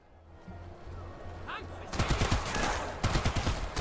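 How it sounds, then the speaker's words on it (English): Machine gun fire in the World War II tactics game War Mongrels, two loud rapid bursts of rattling shots, preceded by quieter ambient sounds, with a voice speaking partway through. "You can kill those guys, I think so, with your machine gun."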